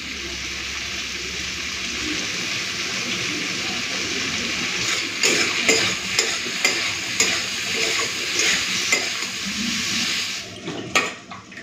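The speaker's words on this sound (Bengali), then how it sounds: "উচ্ছে আলু ভাজার সময় নুন আর হলুদটা দিয়ে দিচ্ছি।" Bitter gourd and potato frying with salt and turmeric give a soft, steady sizzle. Spatula scrapes and stirring clatter grow busier midway, then fade out.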